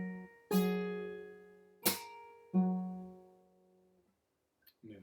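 Acoustic guitar played fingerstyle, with three struck and plucked chords ringing out one after another and decaying, including slapped bass strings and an open E, close and clear before a soft touch at the end.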